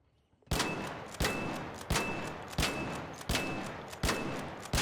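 Repeated gunfire from a weapon in the ARC Raiders video game, about seven evenly spaced loud shots, each with a sharp crack and a short decaying tail, fired steadily one after another.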